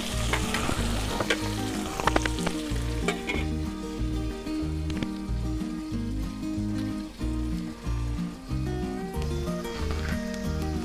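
Green jackfruit and prawns frying and being stirred in a pan, a steady loud sizzle with scraping stir strokes and clinks running throughout, with no voice over it.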